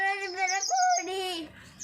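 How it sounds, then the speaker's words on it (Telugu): Birds call near a garden swing with clear, bright, tonal chirps in a short close sequence of rising and falling notes. "ఇక్కడికి పిట్టలు"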